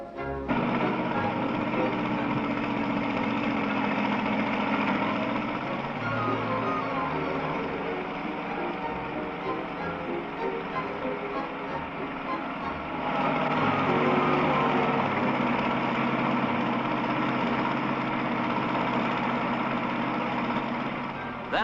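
An internal combustion engine winch launching a glider drones steadily for the whole stretch, its pitch shifting slightly, then growing a little louder and rougher partway through.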